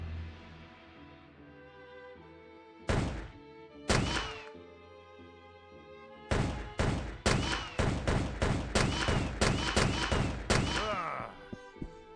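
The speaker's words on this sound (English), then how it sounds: "let's pull up the machine gun now" Machine gun fire in Arcanum, starting with two isolated heavy bursts and then a fast run of sharp, loud shots in an uneven rhythm over a steady music bed.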